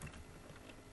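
Keys tapped on a computer keyboard, a short run of quick close keystrokes at a steady moderate level with no talking.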